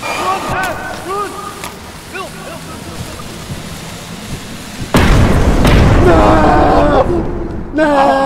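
A grenade goes off in the video game Content Warning: a sudden loud, broad boom with a sustained rumbling tail cuts through excited shouting from players.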